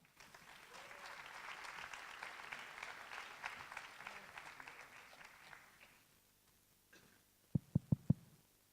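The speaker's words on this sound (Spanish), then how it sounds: "Le damos la bienvenida con un aplauso." An audience applauds to welcome a speaker at a talk on education and technopolitics: sustained clapping for about six seconds that fades out, then a few sharp isolated taps close to the microphone.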